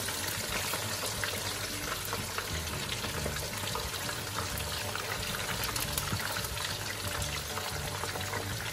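Steady, dense sizzling and crackling of cornflour-coated fish frying in hot oil, continuous and close throughout with no talking.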